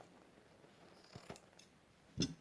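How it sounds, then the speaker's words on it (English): A few faint, close scissor snips trimming gift-wrapping material against a quiet background, the last cut louder and crisper than the others. "I'm going to just trim that down with my scissors"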